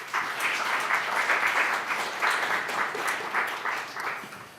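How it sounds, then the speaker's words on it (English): A conference audience applauds a speaker with steady, dense clapping at a moderate level that carries on for the whole stretch with no talking. "So make some noise for Bruno, please."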